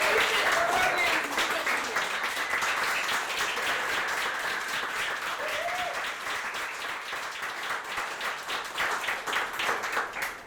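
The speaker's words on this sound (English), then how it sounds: "everybody give a round of applause" An audience at a graduation ceremony for a mini MBA program claps in a long, sustained round of applause that holds steady for about ten seconds and fades at the end.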